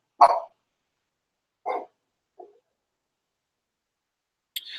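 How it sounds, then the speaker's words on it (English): A single dog barks in the background: a loud bark, a second bark, then a softer short yip, each separated by silence. "that's my dog barking in the background"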